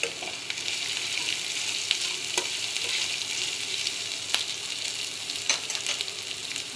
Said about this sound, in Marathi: लसूण थोडा गोल्डन ब्राऊन झालेला आहे.